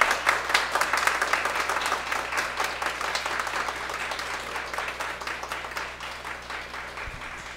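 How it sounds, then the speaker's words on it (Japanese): A wedding ceremony audience applauds steadily, many hands clapping together at an even level that fades slightly toward the end. "励ましの拍手をお願いいたします。"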